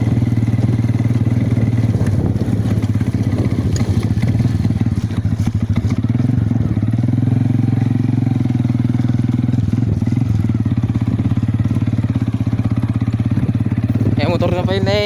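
A motorcycle engine idles steadily nearby with a low, even throb, while people talk over it. Near the end the engine revs up.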